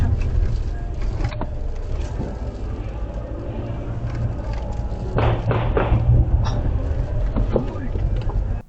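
A car drives up a road toward a dead end, its engine a steady loud rumble throughout, with a few thuds and people talking over it.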